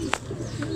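Racing pigeon cooing briefly: one short, soft call near the start and a fainter second note later, over a low steady background hum.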